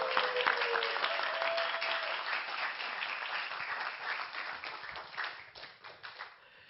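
An audience at a missionary training school gives warm, dense, continuous applause as a staff member, Kim Mi-jin, comes on stage. The clapping stays steady throughout and fades slightly toward the end.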